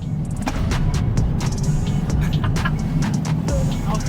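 A rebuilt, previously totaled Tesla Cybertruck drives along with a steady, loud low rumble of road and drivetrain noise that holds through the whole stretch, while scattered clicks and rattles rise above it.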